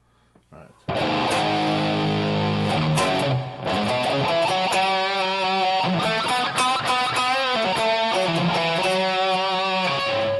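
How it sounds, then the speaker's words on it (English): An electric guitar through a Headrush Prime with a 4x12 cabinet sound plays chords and notes drenched in lingering reverb, the sound ringing out and trailing off between strums. "Put a little bit of reverb in there."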